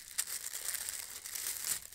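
A paper sewing pattern is folded along a dart during a jacket bust adjustment, giving quiet, close crinkling and rustling in brief uneven bursts with no voices.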